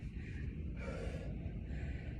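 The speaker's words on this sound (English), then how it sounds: "I'm breathing a little bit heavy." Heavy breathing during a squat workout in a HIIT session, a quiet sharp inhale-like gasp through the nose, close and alone.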